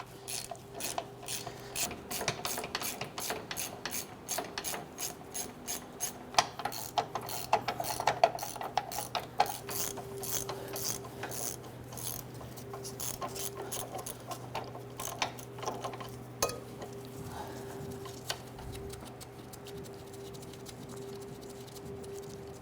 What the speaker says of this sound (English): let's go ahead and remove all four of these nuts